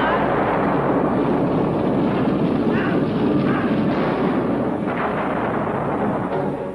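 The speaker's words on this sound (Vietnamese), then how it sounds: "Có tiếng nổ dưới hầm." A dense, rumbling blast with heavy continuous roar and crackle, loud and close, an explosion echoing in an underground tunnel.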